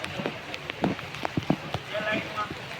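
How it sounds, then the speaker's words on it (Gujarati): Heavy monsoon rain pours down in Jamnagar, a steady wet hiss with scattered sharp drops and splashes close by, while someone talks over it. "વરસાદ ફૂલ ચાલુ જ છે મિત્રો"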